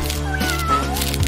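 A cat meows with a drawn-out, wavering cry, close and clear, with no voices present.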